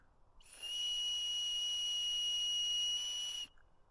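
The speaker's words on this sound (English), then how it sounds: "Okay, so we've got the whistle." A shrill whistle from an Olympia 25-in-1 survival kit sounds as one steady, piercing blast of about three seconds, close and alone in an otherwise quiet setting.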